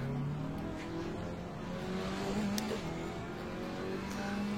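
A race car engine in a racing video game drones steadily with a low rising hum as the car pulls away from a standstill, the revs shifting in pitch, loud and continuous with no talking.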